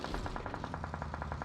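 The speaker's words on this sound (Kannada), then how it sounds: "ಗನ್ ಸೌಂಡ್ ಬರ್ತೈತೆ." Rapid automatic gunfire from a video game rattles in an even burst of about a dozen shots, faint and distant, under a low background hum.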